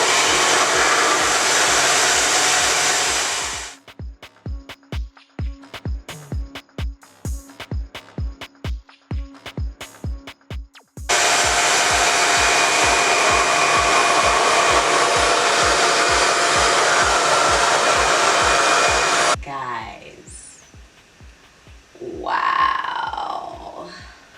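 A RevAir vacuum hair dryer runs loud and steady in long stretches, cutting off briefly with a rapid pulsing stutter in between, then stopping before a short bit of quieter sound at the end.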